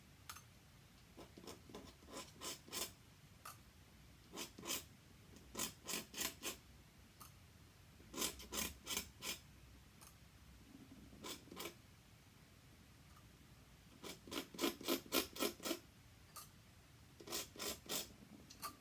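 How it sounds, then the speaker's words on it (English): An ink pen scrapes at the nearly empty bottom of a 75 ml ink jar during a drawing session: repeated short rasping strokes in quick bursts, pausing between runs, close and fairly quiet with no talking. "Can you hear I'm scraping? That's the bottom of the jar."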